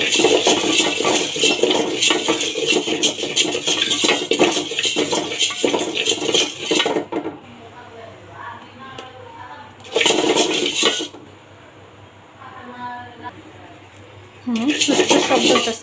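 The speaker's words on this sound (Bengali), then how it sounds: "গমটা আমি বেশি ভাজবো না, হালকা ভাজা দিব" Wheat grains lightly dry-roasted in a pan for khichuri, rattling and clinking densely in loud stretches that drop away briefly, with talking mixed in.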